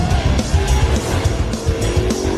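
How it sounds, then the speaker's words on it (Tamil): A car revs and skids over a jump before flipping over, a loud continuous engine roar with rough tire noise close up. "இந்த வண்டி பிறண்டு விழுந்தது"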